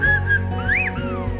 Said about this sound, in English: a whistling language that can carry a complex message up to 5 kilometers across the valleys